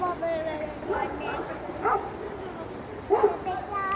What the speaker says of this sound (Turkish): Bak, kızdırmışlar onları. Köpekler kızıyor şu an.